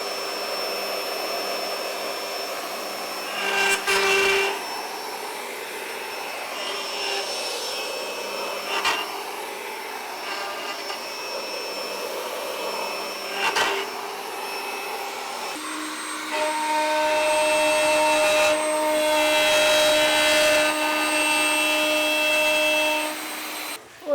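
A handheld router riding on a router sled, flattening the face of a live edge slab for a resin table build: a steady, loud machine whine with passes that swell and ease, growing harsher and louder in the final stretch.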